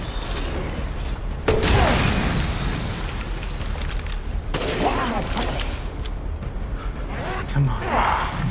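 Explosions and crashing booms in the horror video game Resident Evil Village, several bursts with rumbling, creaking debris, loud against continuous game ambience.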